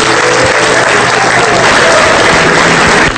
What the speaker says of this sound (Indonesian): tepuk tangan untuk Cici Panda